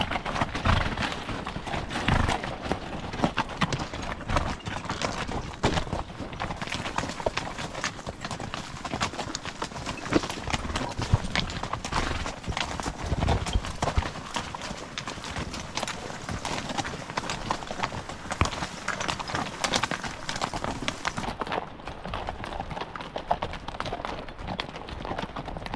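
Horses walk a steep wilderness trail in remote backcountry south of Yellowstone, hooves clip-clopping in a steady, continuous rhythm against constant outdoor noise.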